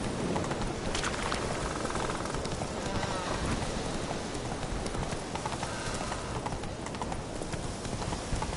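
A horse gallops in The Witcher video game, hooves drumming in a fast, continuous clip-clop amid a dense, steady wash of noise, with a voice speaking over the hoofbeats.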